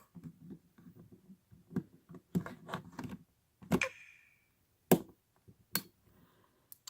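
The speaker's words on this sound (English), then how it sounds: "It appears in the upper right hand corner, and you can hear them sliding in." Nintendo Switch Joy-Con controllers slide into place with a series of sharp, close clicks and clacks, several spaced taps followed by a few louder distinct snaps, no talking.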